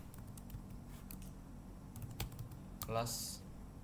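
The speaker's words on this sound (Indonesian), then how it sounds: "Lalu di sini saya akan mengetikkan seperti yang ada pada slide presentasi tadi." Quiet tapping on a computer keyboard, a steady stream of soft key clicks with a few sharper strokes and a brief louder burst near the end, close and faint in a calm room.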